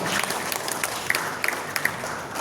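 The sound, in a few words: audience applause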